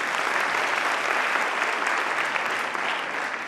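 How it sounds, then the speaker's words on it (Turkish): An audience at a Turkish career talk claps for the speaker in a steady, full round of applause that holds evenly for a few seconds. "Bir alkış alabilir miyim kendime?"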